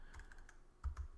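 Keystrokes clatter on a computer keyboard in a quiet room, a handful of light taps in an uneven rhythm, close and soft.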